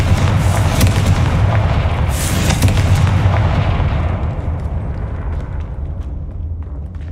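A Confringo blasting spell explosion in the Hogwarts Legacy video game: a loud, close, booming blast with a heavy low rumble that sustains and then gradually decays and fades away over several seconds.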